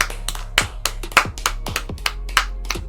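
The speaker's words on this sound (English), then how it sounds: "I'll clap for this one." One person claps their hands about a dozen times in an uneven rhythm, sharp close claps standing alone without talk.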